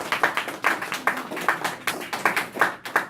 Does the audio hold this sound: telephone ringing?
no